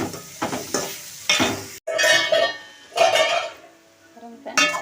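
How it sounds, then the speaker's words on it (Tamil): Boiled cluster beans being stirred into sautéed tomatoes in a pan, with several bursts of scraping and sizzling separated by short pauses, close and fairly loud, plus a few light clinks of the utensil. "பாருங்க வந்து காயை வந்து நல்லா மிக்ஸ் பண்ணி விட்டுருவோம்"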